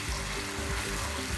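Masala stirred as it fries in ghee, a steady close sizzle with soft scraping strokes of the spoon repeating throughout.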